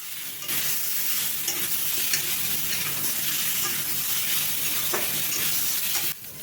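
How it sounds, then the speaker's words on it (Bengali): Mango pieces frying in a pan, a dense, steady sizzle and crackle heard close and loud throughout, with faint stirring knocks, cutting off abruptly near the end. "দিয়ে আমগুলোকে এবার আমি কিছুক্ষণ ভেজে নেব।"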